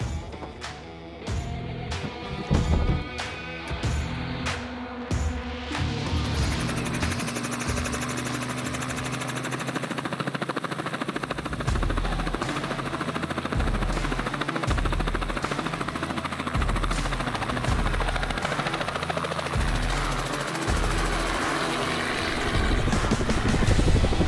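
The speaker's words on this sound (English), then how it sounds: "we're so lucky to be able to use a helicopter on our backpack hunts" A helicopter used for backpack sheep hunting in the Northwest Territories, its rotor chopping rapidly and loud at first, then settling into a sustained close, heavy whirring roar that swells slightly toward the end.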